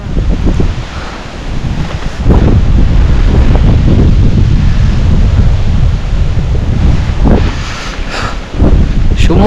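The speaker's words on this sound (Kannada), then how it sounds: "ಶಿವಮೊಗ್ಗ ಮಲೆನಾಡು ಗಾಳಿ ಅಂದ್ರೇ ಗಾಳಿಯಪ್ಪ" Strong wind buffets the microphone in the Malenadu hills near Shivamogga, around Ammanaghatta in Hosanagara on a forest trekking stretch, a loud continuous roar with gusty surges and rumbling low-end buffeting throughout.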